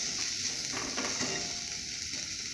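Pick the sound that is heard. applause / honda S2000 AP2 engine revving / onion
onion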